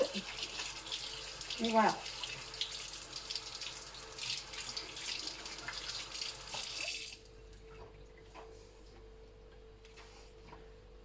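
Hot water gushes from a tap into a sink during caustic-soda soap making, a steady close splashing rush that cuts off abruptly after about seven seconds, leaving a quiet room where a voice speaks briefly.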